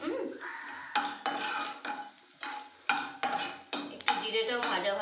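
Asafoetida and cumin seeds sizzle in hot oil in a kadai for a vegetarian pea and potato curry, crackling close under repeated sharp metallic clinks and scrapes of a spoon stirring against the pan.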